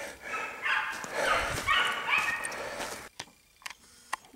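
Hunting dogs chase a hare with loud, overlapping yelps and barks for about three seconds, then the pack fades out, leaving near-silence with a few sharp clicks.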